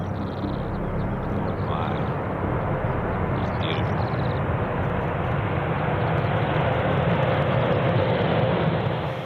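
A B-1 Lancer supersonic bomber with variable sweep wings flying, heard as a steady, loud, broadband jet roar that holds an even level throughout without fading in or out.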